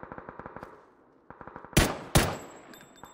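Gunfire in PUBG: a rapid rhythmic burst of automatic rifle shots, a pause, more quick shots, then two loud close heavy blasts near the end, with no talk over it.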